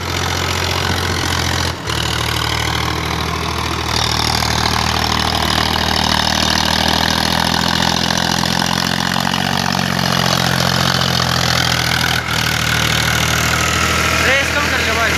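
A Powertrac Euro 50 tractor pulling a 7 ft rotavator, its engine running steadily and loud for the whole stretch in a dense, constant drone, with voices under it.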